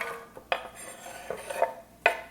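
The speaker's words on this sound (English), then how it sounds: "I'm gonna get this onion in my pan" A chopped onion goes into a cooking pan for a turkey meatloaf, giving a few sharp metallic clinks and clatters spaced over a couple of seconds, close and fairly loud, with no talking.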